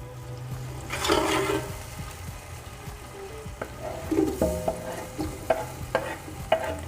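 Tomatoes frying in oil with ginger and green chili paste for a Hyderabad-style beef biryani: a soft sizzle under bursts of stirring and scraping, with a few sharp clinks of a spoon against the pan.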